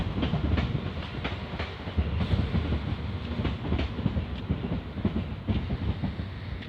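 A train rolls past with a steady clickety-clack of wheels over rail joints, loud and close, continuing for several seconds with no talking.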